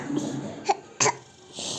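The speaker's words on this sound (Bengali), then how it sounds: "কেমন করে কাশছো" A person gives two short, sharp coughs in quick succession, fairly close and loud, between brief quieter breathy sounds.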